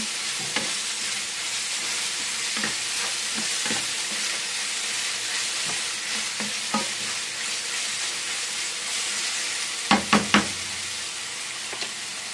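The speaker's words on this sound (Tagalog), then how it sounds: "Hintayin lamang po natin ito mag-caramelize yung ating mga nilagay." Octopus adobo ingredients frying and caramelizing in a pan, a loud continuous sizzle with scattered knocks of a utensil and a quick cluster of taps near the end, no talk.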